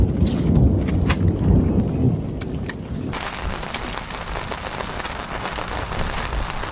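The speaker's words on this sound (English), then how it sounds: "Man, the thunder's going crazy right now and lightning." Heavy thunder rolls over steady rain pounding surfaces at a camp in Sedona, Arizona, loud and continuous, with the rumble easing partway through while the downpour keeps hissing.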